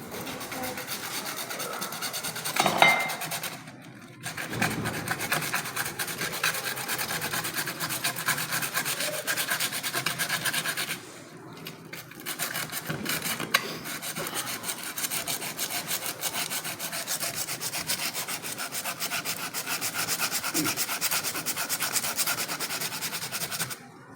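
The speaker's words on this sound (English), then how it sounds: "we are going to rub this surface" Sustained abrasive rubbing on a metal surface, a steady scraping rasp running almost continuously with two brief pauses, close and fairly loud, no voices over it.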